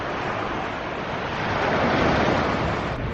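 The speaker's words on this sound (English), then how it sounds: "Just sat here watching the rollers gently break." Sea rollers breaking gently on the shore at Porthleven, Cornwall, heard as a continuous broadband wash of surf with some wind buffeting on the microphone, steady and fairly loud with no talking.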